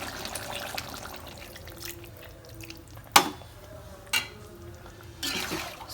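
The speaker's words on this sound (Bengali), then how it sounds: "অল্প একটু পানি দেবো।" Water is poured into a pot of Jamuna river hilsa cooking with bottle gourd, heard as a few brief splashing bursts over a low simmering background.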